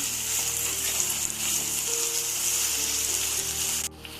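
Garlic ginger paste sizzles and fries steadily in hot oil for egg bhurji, a close, continuous crackle with light stirring, cutting off abruptly near the end.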